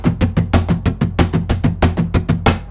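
Flamenco guitar strummed in a steady four-beat pattern with the first beat accented, bright repeated strokes played alone and close.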